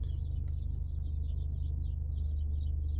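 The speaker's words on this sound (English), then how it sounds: "Do you hear those birds? They're going crazy." Birds chirp rapidly and continuously, a dense chatter of high calls over a steady low hum, with no talking.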